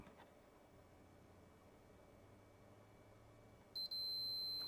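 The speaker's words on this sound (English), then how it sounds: "We got beeps." After a quiet low hum, two short electronic POST beeps sound from a DTK PTM-1000 286 computer motherboard, the second a long steady tone, clear and close.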